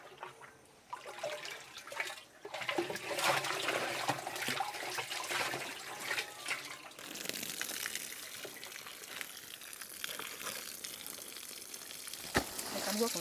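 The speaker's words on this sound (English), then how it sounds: "with this water, it will continue to drip down into the contents" Water trickles and drips down through a homemade organic compost heap after a sugar mixture has been added, giving a continuous, fairly loud splashing wash that runs for the whole stretch with no talking.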